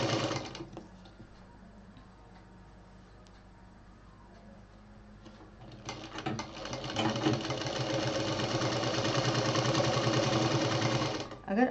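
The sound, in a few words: sewing machine stitching fabric handle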